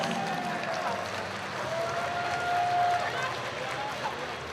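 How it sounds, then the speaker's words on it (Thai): Crowd applause during a Muay Thai bout, heard under a commentator's continuous talk, moderately loud and steady throughout. "ได้รับเสียงปรบมือครับ"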